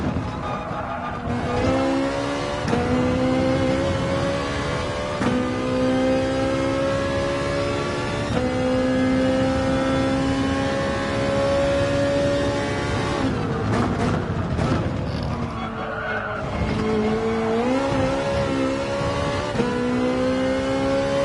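Race car engine in a racing video game at the Red Bull Ring, held in third gear, droning and whining steadily as revs climb and dip through corners, with brief gear shifts and a stretch of tire scrubbing, loud and continuous without talk.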